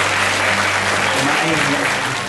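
A crowd at a Hindi poetry gathering (kavi sammelan) breaks into loud, continuous applause that fills the short span, with voices mixed in beneath it.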